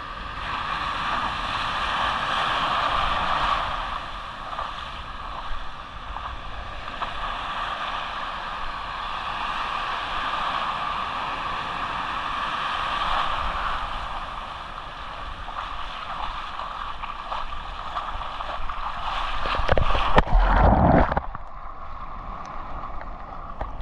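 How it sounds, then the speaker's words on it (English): Big ocean waves on the Outer Banks during hurricane season make a steady roar of surf and wind, with a loud close gust or buffet near the end. "Big waves this morning."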